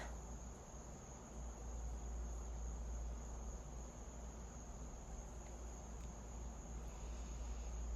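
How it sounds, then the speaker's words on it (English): Cicadas drone in a dense, continuous buzz through a quiet night heard from a balcony, high-pitched and unbroken, with a faint low hum beneath. "Do you hear the cicadas?"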